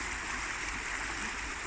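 River Trent flowing alongside the Trent and Mersey Canal, a soft continuous wash of moving water with faint gurgling, steady and fairly distant, no voices over it.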